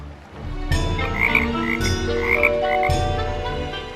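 Frogs croak loudly and steadily in a pond in an animated children's story, a dense chorus of overlapping calls running throughout with no talking.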